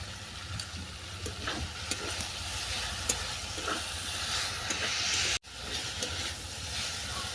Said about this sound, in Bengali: পাট শাক আর আলু নেড়ে চেড়ে আমি ভালো করে ভেজে নিচ্ছি